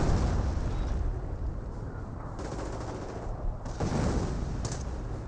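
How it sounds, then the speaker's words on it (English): In a Company of Heroes battle, an artillery barrage pounds away as rapid gunfire and dull booming blasts overlap in a continuous rumbling roar, fairly distant and muffled. "Artillery barrage running on in."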